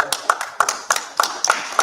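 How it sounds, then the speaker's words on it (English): Brief clapping at an honors ceremony for men, a few sharp, uneven hand claps in quick irregular succession, close and fairly loud, with voices chattering faintly underneath. "Clap that up."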